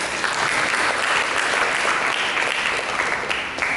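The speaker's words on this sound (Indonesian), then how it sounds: "Untuk itu saudara kita berikan tepuk tangan bagi Yesus." A church congregation claps together in sustained, dense applause, steady and fairly loud throughout the short stretch.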